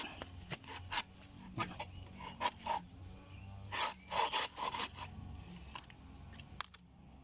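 A papaya tree stem is cut through during pruning, giving a series of close rasping, sawing strokes in uneven bursts, some louder than others, with faint background noise and no talking.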